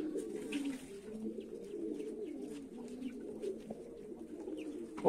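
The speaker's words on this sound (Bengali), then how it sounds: "নর কবুতর তো একটু পাজি, ডাকাডাকিতে ব্যস্ত থাকে, মাদির খাঁচার সামনে এসে ডাকাডাকি করে" Male pigeons coo steadily in low, throaty rolling calls, several birds overlapping close by near a cage of females, with faint splashing of pigeons bathing outdoors in the background.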